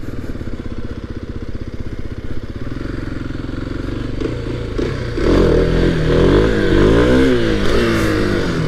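A small 50cc scooter engine idles with a rapid putter, then revs up louder and wavers in pitch as it pulls away, with some clatter.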